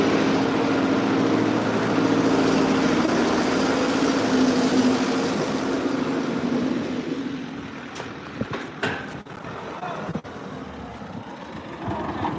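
A combine harvester engine idles with a steady low rumble for the first several seconds, then fades into quieter rattles and scattered clanks and knocks.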